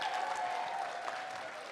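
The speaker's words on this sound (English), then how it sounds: "Big cheer for them because they helped on all this stuff." Audience cheering and applauding for the helpers at a closing event, a steady wash of clapping and cheers close by that holds at an even level throughout.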